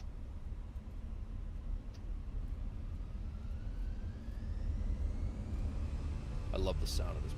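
Airliner engines of an A320 in Microsoft Flight Simulator roar steadily and loudly as thrust builds, a broad rumbling whoosh that swells slightly toward the end, with faint voices in the background.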